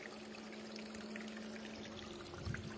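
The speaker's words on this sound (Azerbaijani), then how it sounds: "Bu bulaq təbii dağlardan axan bulaqdır." Natural mountain spring water flows and pours steadily in a continuous close splashing stream, with a low hum underneath and a brief louder gurgle near the end.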